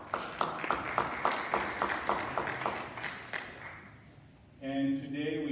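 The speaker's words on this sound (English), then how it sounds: "So round of applause for them." A church congregation claps for members' birthdays during a worship service: several seconds of lively applause that thins out, followed by a sustained tonal sound, likely a voice or music.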